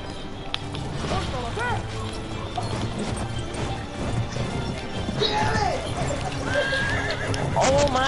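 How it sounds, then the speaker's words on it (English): Horse in the video game Battlefield 1 gallops with rapid clip-clop hoofbeats and lets out several shrill whinnies amid crashing battlefield noise, with a voice talking over parts of it. "When you're on a horse, it automatically puts you in third person."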